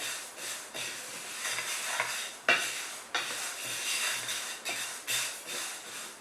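A spoon stirs a green gram (mung bean) ladoo mixture as it dry-roasts in a pan, giving steady close scraping strokes over a soft hiss, with sharper clacks against the pan every second or so.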